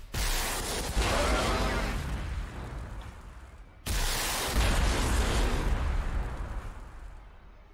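Units firing in the Warhammer 40,000: Sanctus Reach strategy game with Orks, two long booming artillery-like blasts each decaying into a rumbling roar.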